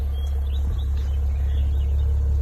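A Maserati Levante SUV engine rumbles steadily up close, a deep, loud idle drone that holds without pause, with faint bird chirps above and no talking.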